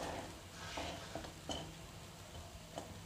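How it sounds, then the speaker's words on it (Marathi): Sabudana khichdi is sautéed in a pan with a faint, quiet sizzle. Scattered light taps and scrapes of a spoon against the pan sound close by. "अजून याला थोडं परतून घेऊया"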